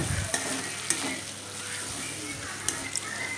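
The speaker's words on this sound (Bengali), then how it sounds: "টমেটোটা না গলা পর্যন্ত কিন্তু আমরা এখানে সুন্দর করে ভাজবো" Chopped medium tomato with spices frying in a pan for a Bengali lentil-fritter potato cauliflower curry, a steady soft sizzle with a few clicks of stirring, no talking.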